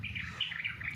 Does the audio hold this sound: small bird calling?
yes